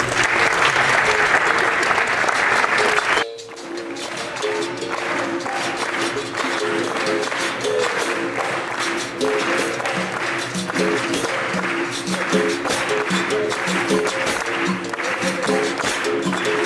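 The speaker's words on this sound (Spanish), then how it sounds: "Fuerte el aplauso." Loud applause from an audience greets a capoeira group and a guest performer from Brazil at a cultural event, a dense burst lasting a few seconds before giving way to rhythmic music that carries on to the end.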